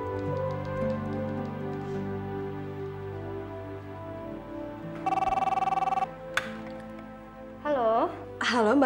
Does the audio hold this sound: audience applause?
no